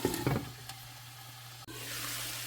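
Water spinach stalks cooking in a covered pan, a soft steady sizzle after a few brief clinks, the hiss swelling slightly near the end.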